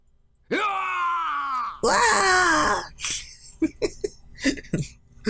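Ronin in the Hakuoki video game scream, with two long anguished drawn-out wails close up, followed by shorter gasping, moaning cries.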